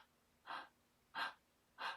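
Man imitating the labored breathing of someone with stage 4 emphysema: three raspy, gasping breaths spaced evenly apart, close and fairly loud, no talking.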